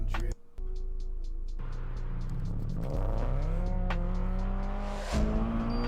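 Car engine revving and shifting gears in footage played back on a live stream, a steady engine tone climbing in pitch, then a gear change and a renewed rise, fairly faint and continuous.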